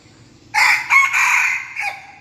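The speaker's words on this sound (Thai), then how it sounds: "มันเป็นไก่นับดอกเด้อนี่ไก่ต่อเด้อ" A decoy fighting rooster crows once, loud and close, a strained drawn-out call in several segments over quiet background.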